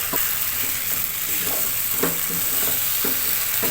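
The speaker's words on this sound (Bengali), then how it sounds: "এইভাবে ভালো করে নেড়ে চেড়ে মিশিয়ে নিতে হবে" Raw jackfruit curry is stirred and mixed in a sizzling pan, a steady loud frying hiss with rhythmic scraping strokes of the spoon recurring every second or so, no talking.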